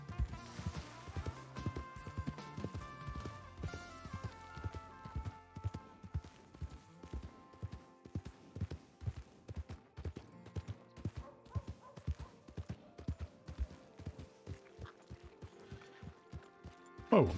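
Horse hooves clip-clop in steady rhythm in the video game Red Dead Redemption 2, a continuous run of crisp, even hoofbeats at a moderate pace, quiet overall with faint tonal background sounds.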